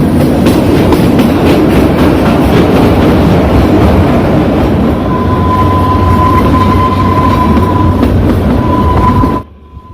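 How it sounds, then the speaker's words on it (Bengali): The Kalka–Shimla toy train runs through mountain tunnels and curves with a loud, continuous rumble and wheel clatter close by. A thin squealing tone rises midway, and the noise cuts off abruptly at the very end. "কালকা শহরকে বাই বাই করে আমাদের ট্রেন ছুটে চলছে সিমলার দিকে"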